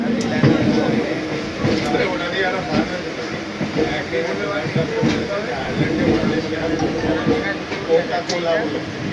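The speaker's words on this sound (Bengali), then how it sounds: "এখন আমাদের ট্রেনটা হৃদয়পুর ছাড়লো বেরিয়ে গেল হৃদয়পুর স্টেশন থেকে" A local train on the Sealdah to Taki Road line pulls out of Hridaypur station. A continuous loud rumble carries scattered rhythmic clacks of wheels over rail joints throughout.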